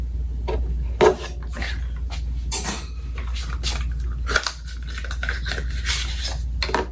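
A sticker-sealed pillow and linen spray bottle from a subscription box being handled and opened, with close crinkling, rubbing and clicking sounds and a few sharper knocks against a steady low room hum, no voices.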